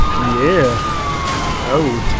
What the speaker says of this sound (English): I'll turn on my sirens and then I'll run over these passages.